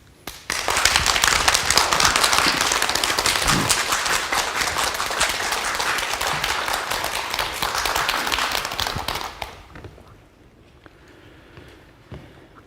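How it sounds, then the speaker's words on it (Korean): An audience claps loudly and steadily for about nine seconds to welcome a doctor giving a lecture on Ieodo, then the applause dies away, leaving a quiet room with faint shuffling. "여러분 큰 박수 부탁드립니다."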